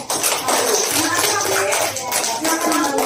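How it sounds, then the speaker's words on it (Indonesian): A classroom group claps together in a burst of applause, with children's voices mixed in over the clapping. "tepuk tangan dulu buat"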